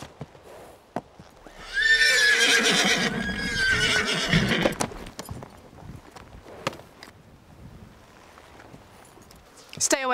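A horse gives a loud, drawn-out whinny lasting a few seconds, with hooves clopping around it and scattered quieter footfalls afterward.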